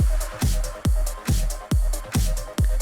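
An electronic track plays in its original form, with a heavy kick and bass hit landing roughly every 0.4 seconds in a pumping, sidechained rhythm under bright synth layers, loud and steady.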